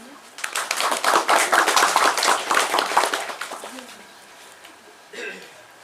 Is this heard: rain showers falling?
no